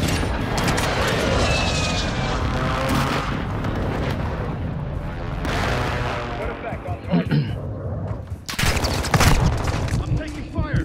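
Artillery fire mission striking in Call of Duty: Modern Warfare II, a dense, continuous barrage of booming impacts and rumbling blasts with gunfire mixed in, loud throughout and swelling with fresh heavy hits near the end, with voices underneath.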